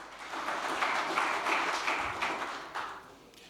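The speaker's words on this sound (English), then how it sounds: "This is your applause." Moderate applause from a congress audience welcoming a speaker, steady clapping at medium distance that swells and then tapers off.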